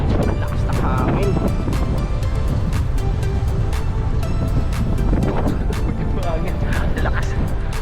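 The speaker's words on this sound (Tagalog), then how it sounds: "lakas na hangin." Strong wind gusts past on a roadside sidewalk, a constant buffeting roar with intermittent clatter, while a person talks over it.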